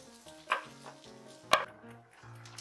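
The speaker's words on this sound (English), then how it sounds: "We're going to shred the whole thing." Cooked meat is shredded in a plastic bowl, heard as two sharp knocks and scrapes against the bowl over faint background sounds, with no talk.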